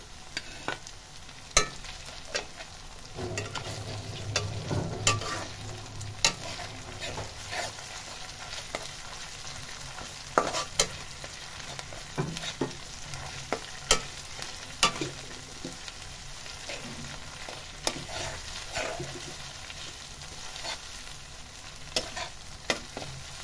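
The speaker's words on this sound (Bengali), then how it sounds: "এখন ভালো করে চুলের উপরে ভেজে নিতে হবে।" Loitta fish frying on a stove with ginger paste, a steady loud sizzle under repeated sharp scrapes and clicks of stirring, continuous throughout with no talking.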